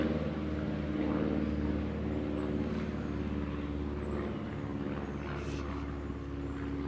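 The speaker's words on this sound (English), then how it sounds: "Wait for this plane to go by." A plane passes overhead outdoors during wilderness survival work, heard as a steady, low, moderately distant drone that holds throughout with a slight swell and fade, and no one talks.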